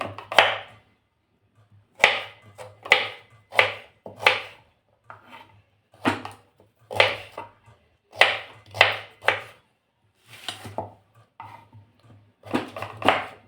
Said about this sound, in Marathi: ही जी रताळी आपण सोलून घेतलेली आहे त्याचे आता बारीक तुकडे करून घेणार आहोत आपण